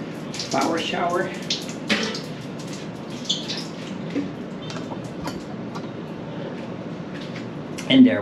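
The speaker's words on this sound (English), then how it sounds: "use my power shower." A power shower runs with a steady rushing spray of water, broken by clunks and splashes, with someone talking over it.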